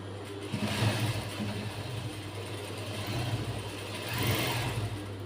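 A sewing machine stitching a blouse, running a double line of stitches over an existing seam, gives a steady, close motor hum with a low drone that swells slightly at times and runs unbroken throughout.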